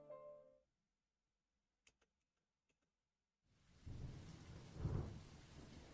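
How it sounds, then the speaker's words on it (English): Rain and thunder sound outside a window in the Genshin Impact video game: after near-silence broken by a few faint ticks, a rumbling roll of thunder rises with the hiss of rain and swells to a peak. "The sound of sparse rain could be heard outside the window."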